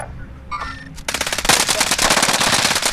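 Gunfire in the video game Call of Duty Warzone during a quads match, a few scattered shots followed by loud, rapid automatic bursts that fill the rest of the moment.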